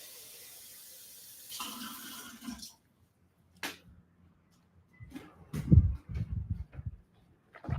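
Kitchen tap running while a glass is filled for a drink, a brief hiss of flowing water, then near silence, followed by louder clunks and splashy handling sounds close by.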